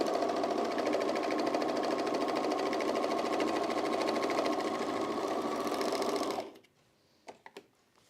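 A sewing machine runs in one loud, fast, even stitching burst while sewing the center back rise of denim jeans, then stops, followed by a couple of small clicks.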